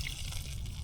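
Water pours steadily into a cooking pot of soup with carrots, a continuous, close, moderately loud splashing gush with no talk over it.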